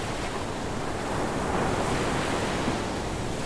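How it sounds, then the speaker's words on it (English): Ocean waves in an Unreal Engine video game: a steady, broad wash of surf noise filling the whole stretch, with a gentle swell in loudness partway through and no voices. "So we got the ocean waves coming up."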